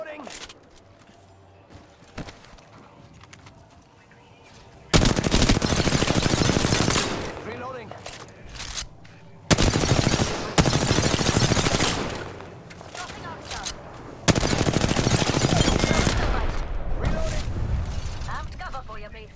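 Bursts of rapid automatic gunfire in the Apex Legends shooter game, loud sustained volleys separated by quieter stretches with a voice talking and game callouts.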